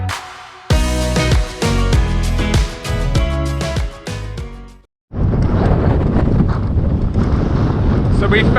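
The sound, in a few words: wind blowing outdoors on a mountain road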